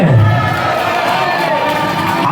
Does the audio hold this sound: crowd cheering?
yes